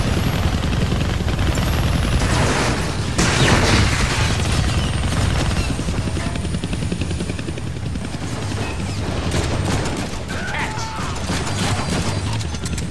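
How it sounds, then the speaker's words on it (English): A helicopter in the Deadpool video game thrums steadily and loudly throughout, mixed with game gunfire and bursts of action noise. "Kill that chopper with my guns."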